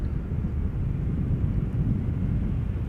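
A 22-year-old British Airways Airbus A320 arriving at Schiphol Airport from London Gatwick, heard as a steady, dense low roar with no change in level and no talk.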